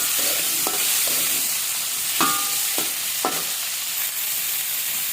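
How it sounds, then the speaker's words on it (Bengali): Cauliflower pieces fry in a pan, giving a steady broadband sizzle broken by a few sharp scrapes and clinks of a utensil stirring against the pan, with no talking. "আমি ফুলকপিগুলোকে খুব সুন্দর করে ভাজা ভাজা করে ফেলবো"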